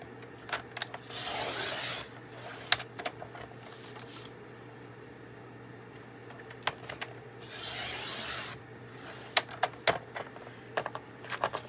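Strips just under an inch wide are cut on a paper trimmer, with sharp clicks and taps and two longer rasping slicing strokes, close and quiet, with no talk.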